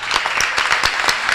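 Audience at a kirtan claps loudly, a brief burst of many hands with distinct rhythmic peaks that sound close and lively.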